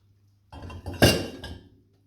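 Clean pans and dishes clink as they are lifted out of a dishwasher, a short cluster of metallic rattles with one sharper clank in the middle, close and alone.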